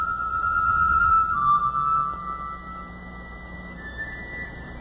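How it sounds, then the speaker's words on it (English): A jeweled, wind-up mechanical bird in a vintage cartoon sings a nightingale song in thin, sustained whistling tones that bend and glide, moderately loud over a quiet background, with no talking. "The emperor wound up the spring, and the bird started to sing."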